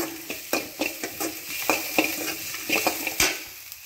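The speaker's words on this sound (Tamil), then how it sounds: "அது கூட கருவேப்பிலை, இதை நல்லா வதக்கிக்கிங்க" Curry leaves sauté in a pan for drumstick-leaf egg poriyal with ghee, giving steady sizzling frying with repeated stirring scrapes and taps of a utensil against the pan, close and moderately loud, no talking.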